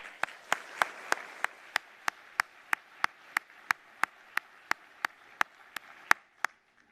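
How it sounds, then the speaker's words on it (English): Audience at a student cluster competition awards ceremony at ISC 2016 giving a round of applause, heard as a steady, evenly paced series of single sharp claps over faint room murmur, ending abruptly into silence. "giving them a well-earned round of applause."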